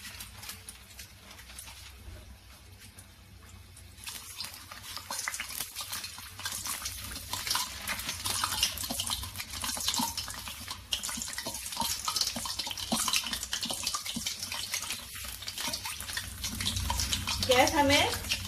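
Stuffed gujiya dumplings slide into hot oil in a pan over a low-to-medium gas flame, giving a steady close hiss of frying that starts a few seconds in and grows louder toward the end.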